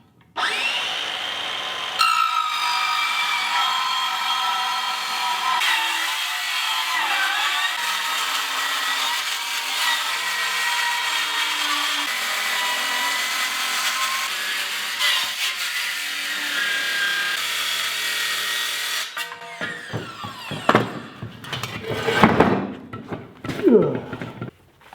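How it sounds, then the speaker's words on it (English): Angle grinder fitted with a Diablo metal-cutting blade cuts metal for about twenty seconds as a loud, steady high whine, then stops and gives way to rattles and handling noise. "you can use an angle grinder, Diablo saw blade, and it's designed to cut metal"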